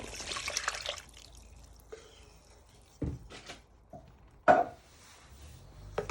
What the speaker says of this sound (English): Next you're going to add in your coconut milk.